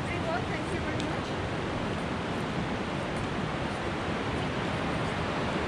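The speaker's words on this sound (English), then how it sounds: "River just down below us." A river rushes far below a pine-lined mountain trail between Phakding and Namche, a continuous broadband roar of flowing water, steady and unbroken with no voices.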